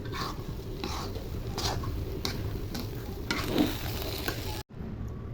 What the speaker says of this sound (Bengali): আমি এখন নেড়ে চেড়ে দিব